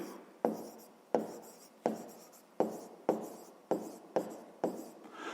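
Handwriting an equation for a fifth-grade math exercise: about eight firm pen strokes tap and scratch across paper, each a sharp start that fades, close and quiet with no talking.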